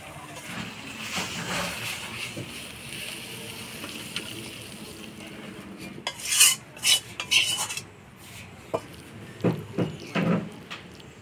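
Banana flower and prawn curry (mocha chingri) stirred in a pan, with a spoon scraping and clinking against metal in irregular bursts over a low steady background, close.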